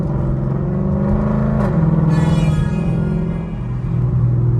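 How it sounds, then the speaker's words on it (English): A small truck rolls past a car on the road, its engine rumble and tire whir swelling loudly nearby and then easing off, heard alone without talk. "Little truck passing by me"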